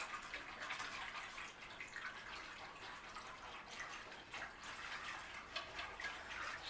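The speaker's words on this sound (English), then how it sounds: "So now let's put this in there. The 4 cups of cold milk." Four cups of cold milk pour into a cooking pot for cheesy au gratin potatoes, a steady, continuous liquid gush running throughout at moderate volume, with no talking.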